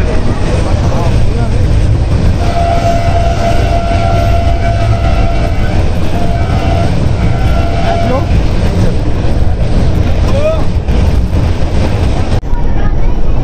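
A freight train hauled by a GU40 locomotive rumbles past close by on a Pakistani railway line, a loud continuous roar with a brief horn-like tone in the middle, ending abruptly.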